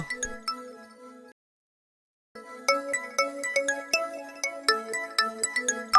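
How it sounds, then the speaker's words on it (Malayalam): A phone ringtone plays a bright melodic tune, pauses for about a second, then resumes louder and busier, close by with no talking. "ദേ നിന്റെ ഫോൺ അടിക്കണ്"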